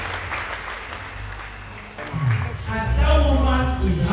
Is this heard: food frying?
no